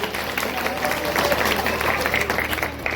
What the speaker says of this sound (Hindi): एक बार ताली हो जाए हमारी भाभी जी के लिए